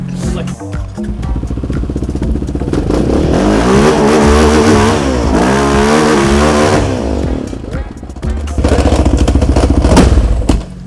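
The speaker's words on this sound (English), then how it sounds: "I think he's trying to burn out." A loud drag car engine roars and revs hard at close range during a burnout attempt at Santa Pod Raceway, howling continuously with rising and falling pitch, then cuts back and surges again.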